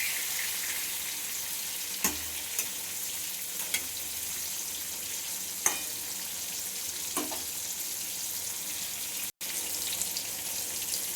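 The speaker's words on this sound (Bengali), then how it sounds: "পটলটাকে নেড়ে চেড়ে এমনি একটু ভেজে নেবো লাল লাল করে।" Pointed gourd (potol) fries uncovered in a pan with a continuous hissing sizzle and occasional faint clicks of stirring, close and steady, with no voices.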